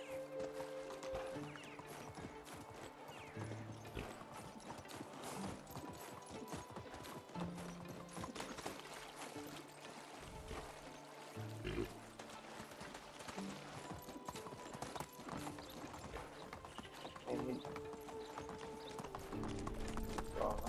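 A horse gallops with steady, rapid clip-clop hoofbeats throughout in the video game Medieval Dynasty, with occasional whinnies over a continuous layer of game sound.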